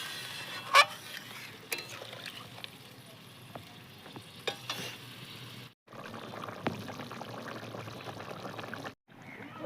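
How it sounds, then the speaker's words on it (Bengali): Water pours into a spiced vegetable curry cooking for a chanda fish jhol. A sizzle with a few sharp clinks turns into a bubbling, frothy hiss, broken by brief silences. "এখন দিয়ে দেবো জল"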